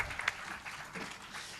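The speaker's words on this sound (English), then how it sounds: "Big round of applause as we do the honors." Quiet, distant applause at a felicitation ceremony for dignitaries, a soft wash of clapping from a crowd with a couple of sharper claps near the start, faint and even throughout.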